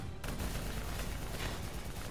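Dense, continuous gunfire from a Call of Duty: Black Ops 3 firefight with an APC and VTOL nearby, loud bursts overlapping with no pause across the whole stretch.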